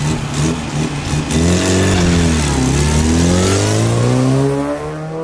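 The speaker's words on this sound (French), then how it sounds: "Pour cette Innocenti Cooper 1300 de 1975, moteur 1293 cm3, grosse préparation également" A heavily prepared 1975 Innocenti Cooper 1300 with a 1293 cc engine revs hard at a historic hillclimb, the loud nearby engine note climbing and falling through gears as the car pulls away.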